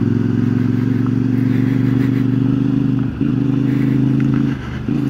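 CFMoto 450MT motorcycle engine on the move, a loud steady mid-pitched drone with a strong pulsing tone, briefly dipping twice as the throttle eases, close up with wind noise behind.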